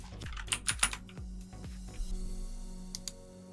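Keyboard keys pressed for a Photoshop shortcut, a quick cluster of sharp nearby clicks followed by a few scattered taps, with no one talking.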